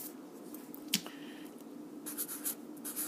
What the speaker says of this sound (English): I'm going to write 35